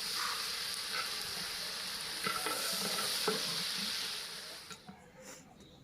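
Onions hit a pan of frying, darkened leaves for turkey biryani, a loud, close, crackling sizzle with scraping stir strokes that fades toward the end, leaving a few soft clinks.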